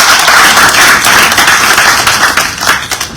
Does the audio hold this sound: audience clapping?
yes